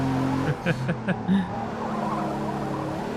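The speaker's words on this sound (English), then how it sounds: "Even makes turbo noises." Engine of a rear-wheel-drive race car in Forza Motorsport, droning steadily with short rising turbo whooshes and revving bursts in the first second and a half, then a sustained even hum.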